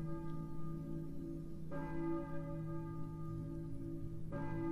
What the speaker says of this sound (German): Ich höre eine Kirchenglocke.